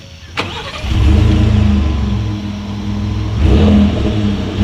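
A 2018 Ford F-150 pickup with the single exhaust setup found on every trim fires up, then revs loudly with a deep rumble, settles briefly and revs again, heard up close with no talking.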